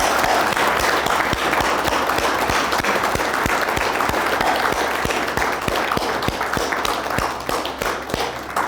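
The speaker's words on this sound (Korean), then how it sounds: "여러분 큰 박수 부탁합니다" A crowd of employees applauds at a company New Year kickoff and CEO inauguration ceremony in an indoor hall, a sustained dense wash of clapping with a steady rhythmic beat of louder claps running through it.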